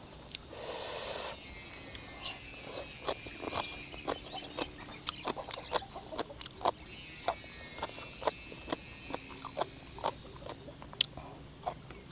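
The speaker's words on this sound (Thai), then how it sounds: "เสียงจักรจันทร์" A shrill, buzzing insect drone like cicadas swells at the start and again midway, over a steady run of close crunching and clicking sounds.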